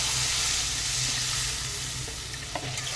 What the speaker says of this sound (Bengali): পরিমাণ মতো ঝোলের জন্য জল দিয়ে দিলাম